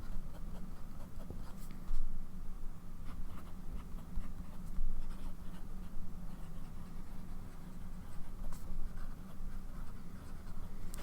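A fountain pen scratches steadily across paper, making a continuous soft, close-up scraping with small strokes and pauses, heard alone over low room noise.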